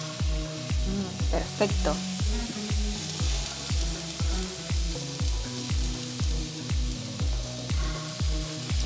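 Onion and tomatoes for a taqueria red salsa sizzle in a hot pan, a steady close frying crackle under a rhythmic, repeating pulsing hum, with a brief spoken word.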